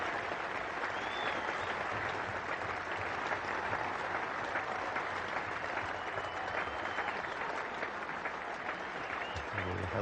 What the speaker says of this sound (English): A healthy round of applause too for him.